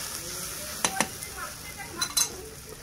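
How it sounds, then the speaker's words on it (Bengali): Koi fish curry gravy cooked with oil simmers and sizzles in a pan at a low, steady level, while a utensil clinks and scrapes against the pan several times. "খুব সুন্দরভাবে তেল কই ঝোলটাকে ফুটিয়ে নেওয়া হচ্ছে"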